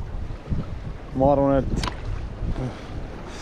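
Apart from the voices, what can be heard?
strong storm wind on a small boat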